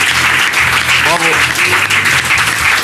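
Studio audience applauding on a French television talk show, dense steady clapping filling the whole stretch with a voice speaking over it.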